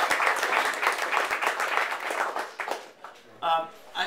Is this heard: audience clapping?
yes